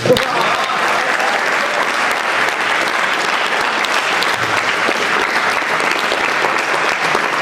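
Sustained applause from an audience at a Hindi comedy poetry (hasya kavita) recital, loud and dense from start to finish, with many hands clapping steadily and no speech on top.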